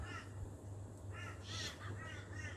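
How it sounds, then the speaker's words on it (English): Crows cawing outdoors, a run of harsh caws at moderate distance, fairly faint, over steady low background hum. "Crows."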